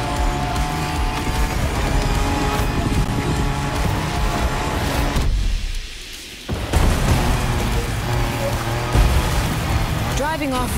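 A car drives off-road in The Crew Motorfest, its engine roaring loud and steady with wind-like rushing, briefly dropping out midway before surging back, while a voice talks over it.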